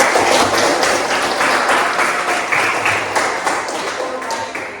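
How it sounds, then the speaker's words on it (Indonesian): A classroom group claps for a student after a physics presentation on Hooke's law, a dense, steady patter of many hands that stays loud and near for the whole stretch before easing slightly at the end. "Anggun, tepuk tangan dulu untuk Anggun."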